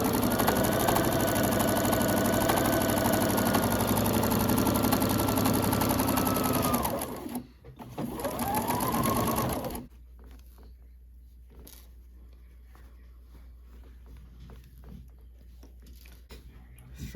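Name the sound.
sewing machine stitching rag quilt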